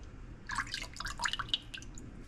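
Coconut milk pours into a cooking pot in a soft, dripping, splashing stream lasting a couple of seconds, fairly close and moderately loud over faint background hum.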